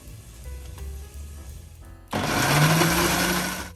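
A mixer grinder jar of fried onions and yogurt starts up after a quiet stretch and then whirs loud and steady as it blends them into a paste.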